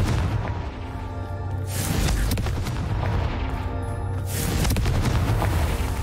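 Confringo spell explosions in the Hogwarts Legacy video game, two loud booming blasts with rumbling tails, at about 0 and 4 seconds, over a continuous dense game soundtrack and effects.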